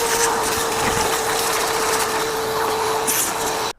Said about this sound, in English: I'm going to use a vacuum cleaner and try to minimize the dust that I create in my shop